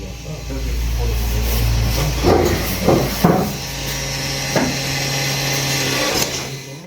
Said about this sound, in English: You'll hear the spindle recalibrating.